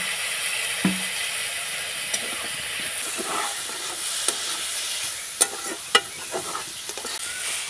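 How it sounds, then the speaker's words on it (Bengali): Vegetables, including potato and carrot, sauté in a pan with ground coriander and garam masala, a constant hissing sizzle punctuated by sharp spatula clicks and scrapes spaced a second or so apart, no voices. "ধনিয়ার গুঁড়ো, গরম মশলার গুঁড়ো দিয়ে আমি আবারও নাড়াচাড়া করে নেব"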